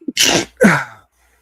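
A single sneeze during a basketball talk show, loud and close, with a sharp inhale followed by two explosive bursts, then silence.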